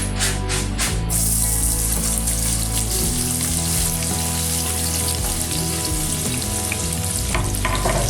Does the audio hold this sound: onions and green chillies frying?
yes